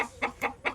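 Chickens give three quick, close clucks in an even rhythm, moderately loud with no talk.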